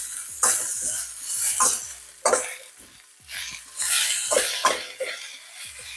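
Spicy pork strips and celery stir-fried in a starch-coated wok, with repeated scraping and tossing strokes over a steady sizzle, loud and close, in irregular bursts.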